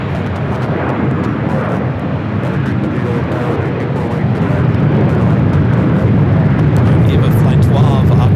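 A Norse Boeing 787 Dreamliner departing LAX for London Gatwick gives a heavy, rumbling jet roar that swells louder midway and stays powerful, with someone talking over it.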